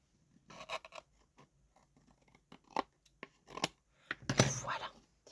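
Scissors snipping decoration for a craft shaker box, a series of quick, close crisp cuts in irregular bursts with short pauses, ending in a louder cluster of snips.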